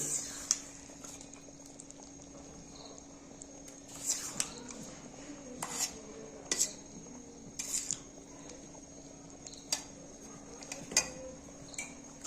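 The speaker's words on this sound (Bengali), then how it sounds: "গুড়টা দিয়ে একটু নাড়াচাড়া করে দেবো যাতে গুড়টা এর মধ্যে মিশে যেতে পারে" Jaggery being stirred into payesh in a pot, with intermittent light clinks and taps of a spoon against the metal over a faint steady hum, quiet and spaced apart.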